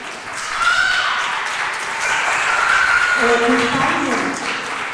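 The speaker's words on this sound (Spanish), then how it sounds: "Pues le damos un aplauso al Señor" Church congregation claps during a Bible study, a moderate crowd of hands under a sustained voice that sings or speaks over the clapping.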